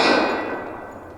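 A single bright metallic clang rings out as a bullet from a 1911 pistol strikes a steel target, decaying smoothly over about a second with no talk.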